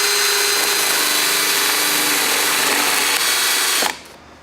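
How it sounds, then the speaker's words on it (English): A cordless drill drilling through metal for a drain plug whines loudly and steadily for about four seconds, then winds down abruptly. "Take your cordless drill, put it at 6 o'clock location."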